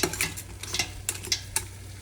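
A spoon stirs crab pieces around a sizzling pan for a crab curry with tamarind, giving quick scraping strokes over a steady frying hiss, close and moderately loud.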